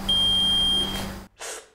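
Electronic timer of a luminometer hygiene test beeping: a steady, loud continuous beep tone lasting under a second, then a brief noisy burst after a short silence.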